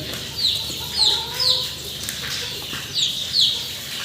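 An adult rooster at a fancy-poultry farm gives short clucking calls, five or six sharp bursts in uneven groups, close by, over a soft background hum and with no talk.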